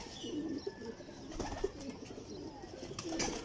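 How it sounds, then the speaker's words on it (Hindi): Old Kasuri pigeons coo softly in a loft, low murmuring calls repeating at moderate distance amid a faint background of rustling and ambient noise. "ये पुराने कसूरी कबूतर हैं दोस्तों"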